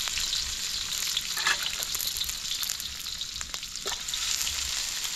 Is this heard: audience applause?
no